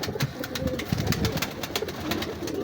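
A female pigeon of pure Choi Sahab's breed, from an old bloodline, coos softly and repeatedly at close range, with a steady low murmur and faint rustling underneath.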